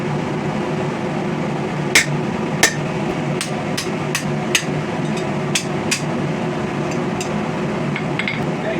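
Hammer striking hot steel on an anvil while forging a grappling hook, about a dozen sharp ringing metallic hits at an uneven pace over a steady forge roar, close and loud.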